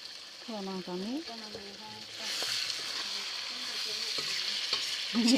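Masala sizzles and fries in a pan while a spoon stirs it, a steady crackling hiss that grows louder, with a voice speaking over it early on.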